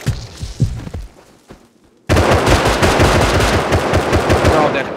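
Rapid automatic gunfire from the Rust video game starts abruptly after a few scattered shots and continues as a loud, dense burst to the end, with some voices underneath.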